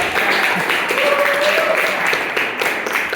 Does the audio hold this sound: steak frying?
no